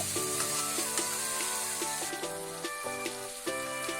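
Cumin, coriander and chili powder sizzle steadily in a pan for a matar paneer dish, with repeated metallic scrapes and taps of a spoon stirring them, no voices.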